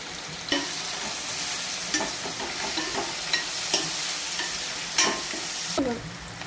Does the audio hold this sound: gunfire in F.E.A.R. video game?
no